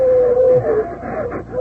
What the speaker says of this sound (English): Those dogs going to get me.